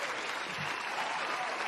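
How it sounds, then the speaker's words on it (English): Applause during a birthday and channel-anniversary live stream, a continuous dense patter of clapping throughout the short stretch, fairly close and even in level. "That applause is all for you,"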